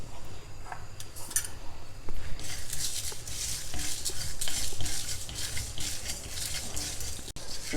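Coriander seeds, dry red chillies and methi seeds being dry roasted and stirred in a pan over a low flame, giving a steady close scraping and rustling patter with light pan clinks, no voices.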